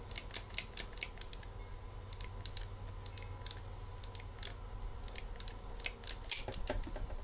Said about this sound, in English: Feed this in. Alright, and it just ratchets through.